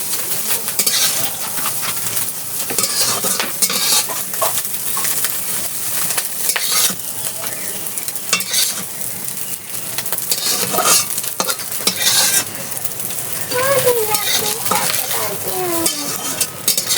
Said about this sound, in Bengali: চিংড়ি মাছটা ভাজা হয়ে গেছে, এবার তুলে নেব।